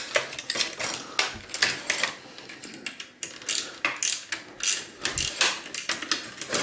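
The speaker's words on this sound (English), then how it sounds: "Just try and remove as many of these screws as I can" Screws are worked loose from the plastic casing of an old projector during disassembly, with repeated quick clicking, ratcheting and clattering bursts of a screwdriver and small parts, close and irregular in rhythm.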